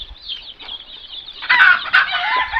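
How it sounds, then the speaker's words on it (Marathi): Desi chickens and chicks roam an enclosed poultry farm, giving steady high chick peeping and clucking that swells into louder, busier bursts in the second half, with no voices. "खूप आनंदात पिल्लं मित्र फिरत आहेत आपल्या बंदिस्त फार्ममध्ये"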